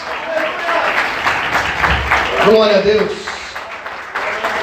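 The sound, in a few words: church congregation applauding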